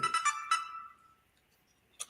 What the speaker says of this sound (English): somebody mute their phone.